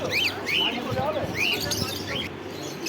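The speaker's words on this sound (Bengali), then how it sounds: "এখানে যেসব লাভবার্ড পাখিগুলো আছে দেখো এই লাভবার্ড পাখিগুলো এক হাজার টাকা জোড়া থেকে শুরু করে" Lovebirds at a bird market in Garia, several quick rising chirps and tweets repeating over busy crowd murmur, with people talking in the background.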